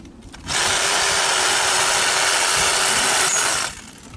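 Sawing through the wood of a dead fig tree outdoors, a loud, steady rasping roar that starts abruptly, holds for about three seconds and then cuts off, with no talking.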